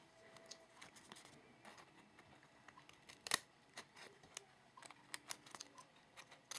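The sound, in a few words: trimming paper with scissors for a pop dot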